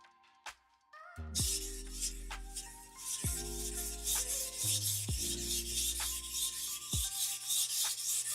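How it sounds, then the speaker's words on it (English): Kitchen knife drawn across a sharpening stone in repeated rasping strokes, close and steady, with a few sharp metallic scrapes at the start and no talking. "No, I cannot stop sharpening my knives."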